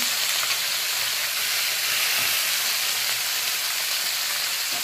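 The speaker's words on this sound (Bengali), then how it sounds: "ছোট মাছগুলো ভেজে নেব।" Small fish frying in hot oil in a pan, producing a dense, loud, unbroken hiss of spitting oil, close up and steady throughout with no voices.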